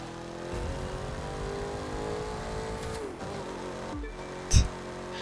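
A Mustang engine revs steadily in a racing video game against Vipers, a continuous close motor drone with a shift in pitch and a short loud thump near the end.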